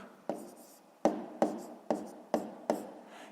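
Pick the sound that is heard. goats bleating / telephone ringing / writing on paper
writing on paper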